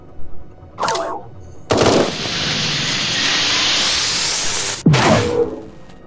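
Turret fire in the space game Eden Star, a sustained loud roar of rapid shots lasting about three seconds, framed by sharper whooshing bursts before and after.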